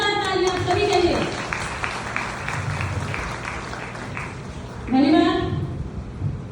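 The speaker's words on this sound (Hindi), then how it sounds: "एक बार जोरदार तालियां आप सभी के लिए" Audience applause for a team at a health awareness celebration event in Bhimtal, a steady wash of clapping from a crowd running under a speaking voice and music.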